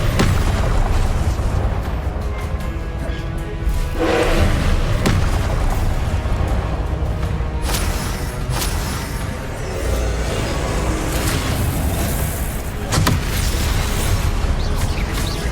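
Repeated Confringo fire-blast explosions in Hogwarts Legacy on PS5, loud booming bursts recurring over continuous combat noise and effects, without talk.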